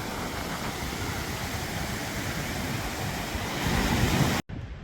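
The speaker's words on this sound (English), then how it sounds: "one of the many waterfalls that drain from the lake" A waterfall draining from a cold lake in Afghanistan gives a steady, dense rush of falling water, close and loud, that swells slightly toward the end before cutting off abruptly.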